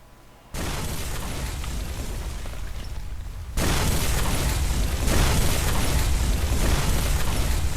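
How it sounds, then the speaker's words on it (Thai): Explosions in Garena Free Fire: a loud, sustained roaring blast rumble that jumps louder after a short quiet start, then swells again, continuous booming with no talk over it. "เดี๋ยวระเบิด ระเบิด"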